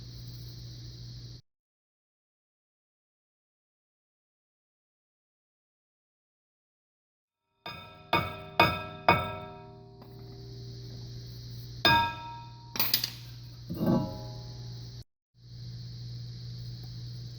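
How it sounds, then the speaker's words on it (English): A hammer taps from behind a Ford Escape brake rotor to knock it off, landing a quick cluster of sharp metallic strikes and then a few more spaced clanks over a low steady hum, close and clear. "you're going to be tapping from the back here where there's the gap in the shield"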